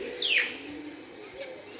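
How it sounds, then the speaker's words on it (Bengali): A green pigeon gives a short, clear descending whistle, fairly close, followed by a faint softer note against a quiet background. "এখানে রয়েছে সবুজ ঘুঘু"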